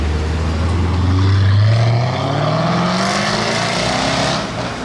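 A LaFerrari's monumental V12 roars loudly as its exhaust valves open, the engine note climbing in pitch and swelling before easing off slightly toward the end.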